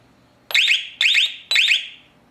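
An SG4000 wirefree alarm control panel gives three loud, evenly spaced electronic beeps on disarming, each a short bright tone with a slight decay, alone and with no voices.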